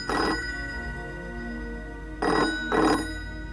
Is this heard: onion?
no